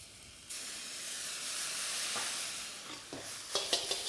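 Lobster noodles stir-fried in a hot wok, a loud continuous sizzle and hiss with scraping clatters of a spoon tossing them toward the end, close by with no talk.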